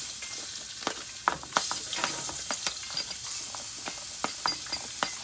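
Onion sizzles as it fries in a pan for a Jamaican-style curry shrimp, a continuous hiss broken by sharp clinks and taps of a utensil against the cookware.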